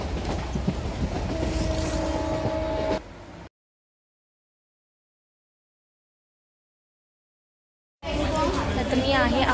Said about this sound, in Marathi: तर आता मी ट्रेनमध्ये आहे